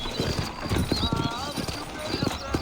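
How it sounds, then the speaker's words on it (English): Horses' hooves clip-clop in an uneven rhythm in the Red Dead Redemption video game, with a whinny partway through, all under someone talking. "You ain't gonna find sturdier horses than these in all of New Albany"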